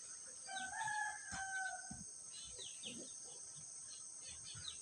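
A rooster crows faintly in the distance, with soft clucking from chickens and chirping insects in a quiet outdoor setting.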